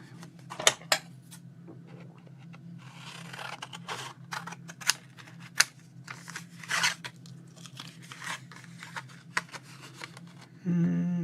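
Scissors cutting paper for a mixed media artist trading card, close and quiet, with a series of irregular snips and crisp paper rustles.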